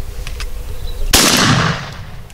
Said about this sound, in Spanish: Así iremos viendo los primeros tiros.